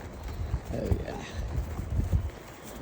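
Horse hooves clip-clopping along a trail on a camping ride, a soft irregular thudding gait under wind noise and rustle, fairly close with no clear talk.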